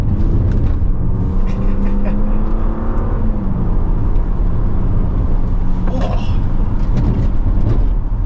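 A 2025 Audi S5 driving, its engine a steady low drone with a slight pitch rise and fall, heard from inside the cabin under continuous talking.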